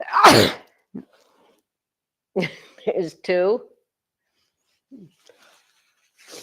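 A single loud, explosive sneeze bursts out at the start, then scattered talk follows from a person speaking.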